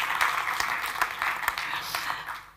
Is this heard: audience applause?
yes